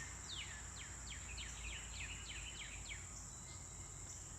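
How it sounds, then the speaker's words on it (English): Birds chirp outdoors as a day brightens after light rain, with a run of quick, rising-and-falling calls in a steady rhythm, fairly faint and a little distant over a soft background hiss. "I'm hearing birds."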